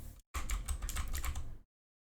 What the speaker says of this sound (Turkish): Klavye sesini alıyor mu?